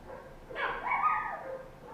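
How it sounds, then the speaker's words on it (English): A dog close by gives a single drawn-out bark that slides into a whiny yelp, loud against a quiet room, with no talking. "I'm going to be talking over barking for the next 5 minutes."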